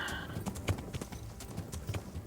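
Horse hooves clip-clop at a steady walking rhythm as a rider travels on horseback in Kingdom Come: Deliverance, close and fairly quiet, with no voices over them.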